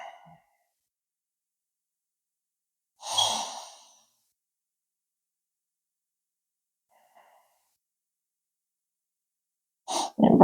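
Deep breaths during a gentle yoga session: a slow audible inhale or sigh around the middle, then quieter breath sounds, with long silent gaps between, close and soft.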